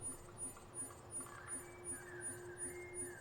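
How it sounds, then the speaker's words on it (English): An alarm sounds in the stealth shooter Killzone Shadow Fall as a faint, steady run of evenly spaced beeping pulses under low game ambience and a sustained tone. "There's a alarm."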